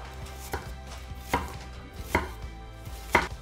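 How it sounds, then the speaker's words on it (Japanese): A knife cuts an onion into wedges on a cutting board, four firm, evenly spaced chops close by with quiet handling between them. "玉ねぎくし切りにしていきます。"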